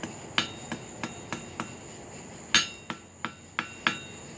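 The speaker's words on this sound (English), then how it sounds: "Just over the edge, gentle taps. Tap it back towards you." A small hammer taps a hot nail on an anvil while forging it into a hook: about a dozen light, ringing metallic strikes in an uneven rhythm, close and moderately loud, with no talking.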